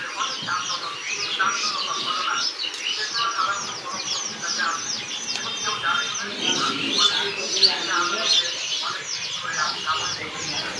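Pigeons gathered on a farm, a continuous chorus of cooing and chirpy calls, fairly close and steady, over faint background activity.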